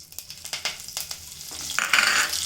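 Curry leaves hit hot oil with spluttering jeera, giving sharp crackles and pops that swell into a loud continuous sizzle near the end.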